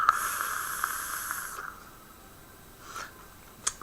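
Breathy hiss of vapour exhaled from an e-cigarette dripper using a 50-50 e-liquid, one long soft exhale that fades out, then a couple of faint brief puffs near the end.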